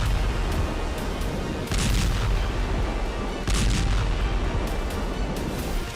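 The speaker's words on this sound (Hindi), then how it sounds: "पहला धमाका, दूसरा धमाका, तीसरा धमाका, चौथा धमाका" Repeated heavy blasts from the war in Ukraine, a series of loud booms and artillery-like bursts over constant rumbling noise, with two especially strong impacts standing out.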